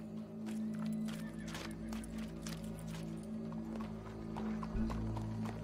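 Horse hooves clop in a steady walking rhythm in the Red Dead Redemption 2 video game, moderately near over a low humming game soundtrack.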